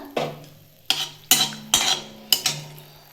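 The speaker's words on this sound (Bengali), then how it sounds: "একটু কালো জিরে ফোড়ন হিসেবে দিয়ে দিলাম" Dried red chillies and nigella seeds dropped into hot oil in a kadai, giving five sharp sputtering crackles and spoon clinks at intervals, each fading quickly, with no talking.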